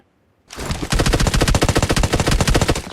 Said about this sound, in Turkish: Kardeşim tabanca sıkıyorsun.